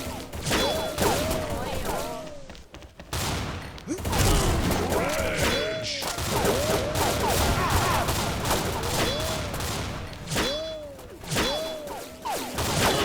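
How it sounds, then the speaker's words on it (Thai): Shotgun blasts in the shooter game XSHOT come in repeated loud, heavy reports every second or two, mixed with clattering mechanical reload sounds and bursts of chatter across the battle. "เสียงลูกซองอีก"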